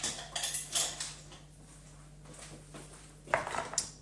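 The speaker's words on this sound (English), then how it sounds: "Just going to grate in some ginger." Fresh ginger being grated in a home kitchen, giving soft, scratchy rasping strokes in short bursts near at hand, with a few light metallic clinks in between and no talking.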